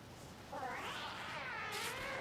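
A cat meows in one long, drawn-out, wavering cry at moderate distance indoors, rising and falling in pitch against quiet background noise.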